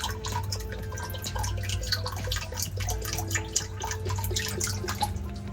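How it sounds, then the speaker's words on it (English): Liquid poured from a bottle into the sump of a Red Sea S-1000 aquarium, a steady close trickle and drip of water running continuously with a faint hum in the background. "Let's go ahead and we'll pour this guy into the sump right here."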